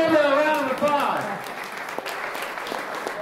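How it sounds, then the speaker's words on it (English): Crowd clapping at a fishing tournament weigh-in, with a voice over the start and steady applause running through the rest at moderate level. "Hey, give her a round of applause."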